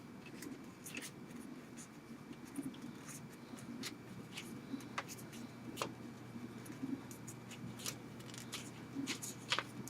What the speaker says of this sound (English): you're just going to start at one side and start to accordion fold this